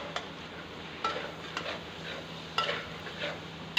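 Chicken and potato keema with tomatoes gets stirred in a pan, quiet scraping with a few sharp utensil clinks against the metal spaced irregularly over a faint low sizzle.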